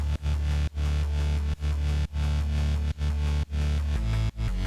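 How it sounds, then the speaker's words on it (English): Stacked synth bass layers from a drum and bass track thump in a heavy, plucky repeating pattern with deep sub weight, short gaps marking each phrase, with no talking. "There is a plucky bass that goes tuku tuku tuku tuku."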